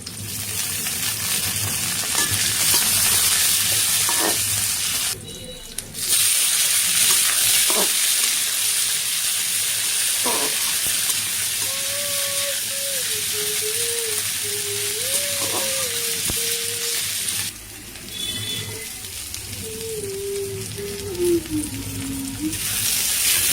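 Garlic sizzles and fries in a pan, a dense continuous crackle with stirring scrapes and occasional clinks, steady and close throughout.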